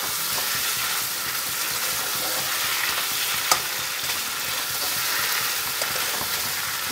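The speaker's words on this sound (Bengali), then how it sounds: "পোস্ত বাটাটা দিয়ে দিলাম, দিয়ে এটাকে খুব ভালো করে নাড়তে হবে।" Poppy seed paste fries with pointed gourd over medium-low flame, a steady close sizzle under continuous stirring and one sharp clack midway.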